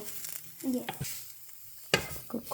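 Food frying in a pan being stirred and mixed during home cooking of a kids' lunch, with soft sizzling under intermittent scraping strokes and a sharper clack near the end, fairly close.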